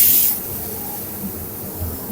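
A sharp burst of hissing as stock hits a hot pan of frying shredded capsicum, quickly fading into a low, steady simmering sizzle.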